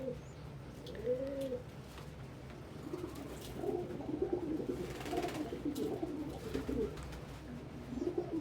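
Pigeons coo repeatedly in soft, rounded, throaty phrases, close and steady over a low background hum, with no talking.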